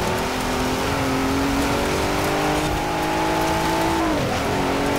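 A race car engine in Forza Horizon 4 revs steadily at high pitch with a brief drop and recovery near the end, heard without talk.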